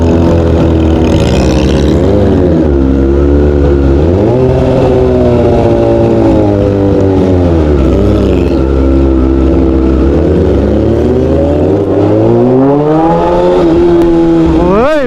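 Yamaha R6 and Kawasaki ZX6R sportbikes revving loudly nearby outside Bo's Coffee in Dagupan, Pangasinan, their engine pitch rising and falling through repeated throttle blips in a continuous roar.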